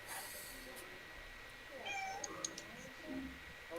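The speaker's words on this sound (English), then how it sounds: "Hail Michael Beacon's cat" A house cat meows faintly in the background during a relaxed live drawing stream, with a short cry followed by softer, drawn-out mews over a low room hum.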